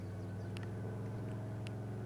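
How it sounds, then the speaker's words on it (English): Chevrolet K30 pickup engine droning while driving down the road in Farming Simulator 22, a steady low tonal rumble with even harmonics, a few faint clicks over it, no talking. "this thing sounds so clean. This K30 is a beast of a truck."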